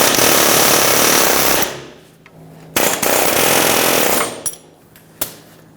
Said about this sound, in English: So we're going to use an air chisel, and we're going to chisel it right here.